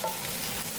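Onion is stirred while frying in oil, a brief continuous sizzle with scraping movement, close and fairly loud.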